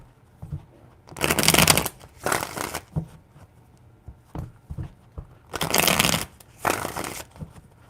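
Tarot cards being shuffled in several loud, close bursts of rapid riffling, each lasting under a second, separated by short pauses and small soft handling noises.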